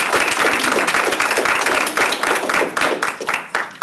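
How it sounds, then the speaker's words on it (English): An audience at a Chicago panel event on gun violence prevention applauds the panelists, steady dense clapping filling the room throughout. "So round of applause for our panelists."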